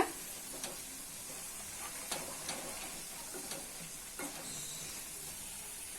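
Chicken pickle sautés with chili powder in a pan, a faint, low sizzle punctuated by several sharp spoon taps and scrapes as it is stirred, with no speech.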